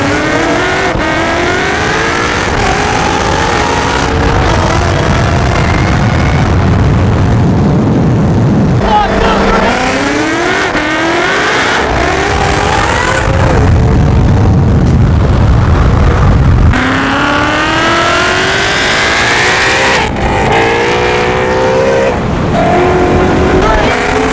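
Built Mustang and McLaren race cars roaring through hard acceleration runs, loud engines climbing through rising gear sweeps with shifts and brief lulls between pulls, close and dominant, with voices talking over parts of it.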